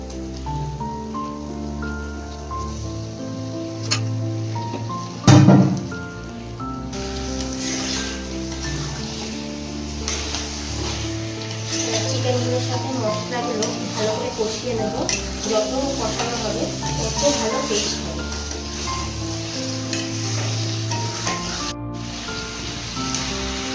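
Chicken pieces for biryani sizzle in spiced oil and are stirred, a continuous crackle with scraping strokes and one sharp knock, running under steady background music.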